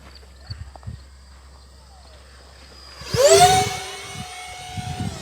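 Whining electric ducted-fan hum of an E-flite Habu 50mm RC jet flying at low throttle, faint at first with light knocking sounds, then a rising whoosh as it passes close and its pitch drops.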